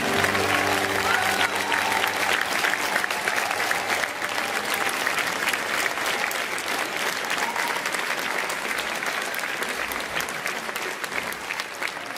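A church audience applauds Paul and Christine with dense, steady clapping that stays loud and continuous for the whole stretch, tapering only slightly toward the end.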